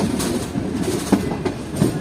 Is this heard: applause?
no